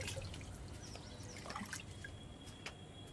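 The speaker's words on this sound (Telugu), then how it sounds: "బియ్యం కడిగిన వాటరు ఇందులో పోస్తున్నాను" Water left from washing rice is poured into a container, a faint close trickle with scattered small drips against quiet room hiss.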